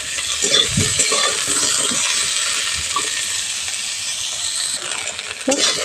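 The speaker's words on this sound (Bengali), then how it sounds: "ডাঁটাগুলো হালকা করে ভেজে নিয়েছি ডাঁটাগুলো তুলে নিচ্ছি" Drumstick stems frying in mustard oil give a steady, bright sizzle that fills the pan, with a few stirring scrapes and clinks near the start and again at the end.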